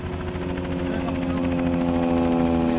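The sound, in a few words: Piper Super Cub airplane making high speed pass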